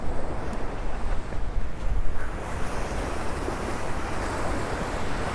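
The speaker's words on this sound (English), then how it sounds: "The water is a lot more calm today than it was the other day." Calm ocean waves wash onto a Florida beach on a winter day, giving a soft, continuous surf hiss that swells gently and then settles, with some wind buffeting the microphone.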